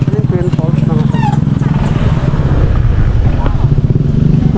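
Motorcycle engine revving and droning close by on a muddy road trip to a waterfall in Kalayaan, Laguna, loud and continuous with wind buffeting and people talking over it.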